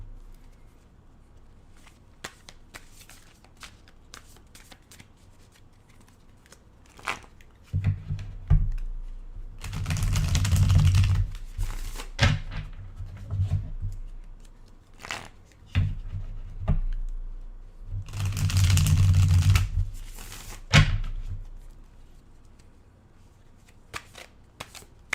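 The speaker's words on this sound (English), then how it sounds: "I'm gonna shuffle the deck a little bit" A deck of cards shuffled by hand: two distinct riffling bursts of fluttering, snapping cards a few seconds apart, fairly quiet and close, with soft scattered taps and handling sounds in between.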